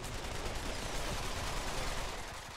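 Dense, continuous gunfire in the VR shooter Pavlov VR, close and loud, with overlapping shots forming a steady barrage throughout and no clear gaps.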